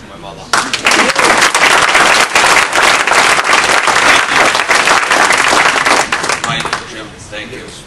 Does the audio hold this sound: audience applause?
yes